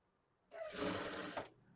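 A sewing machine stitches a blouse seam with a half-inch margin: one short, steady whirring run of about a second that starts and stops abruptly, close and alone.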